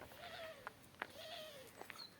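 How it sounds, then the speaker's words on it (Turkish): A cat meows twice in drawn-out, wavering cries in a Turkish village, with a few short clicks and taps between them; no talking. "Bir tane yabancı kedi gördüler ama kedi kendini çok iyi savunuyor."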